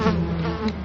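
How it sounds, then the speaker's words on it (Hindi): Flies buzz around a wounded person lying inside a room, a dense, steady droning hum that stays close and loud throughout, with no speech. "कमरे के अंदर इस जख्मी हालत में खून की वजह से मक्खियां भिनभिनाने लगी"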